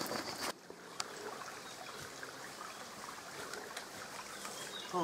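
River water flows in The Last of Us, a soft continuous wash and trickle heard at a distance, faint and steady, with a few small knocks and no talk.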